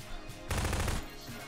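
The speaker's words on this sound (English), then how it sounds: "Why would you keep shooting?" Automatic gunfire in Garry's Mod Prop Hunt, a loud half-second burst of rapid shots that cuts in abruptly after quiet game ambience, then drops back to low background.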